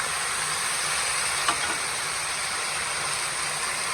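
Carrots and potatoes frying in a pan while a spoon stirs them, giving a steady, close sizzle with a faint clink of the spoon partway through and no talking.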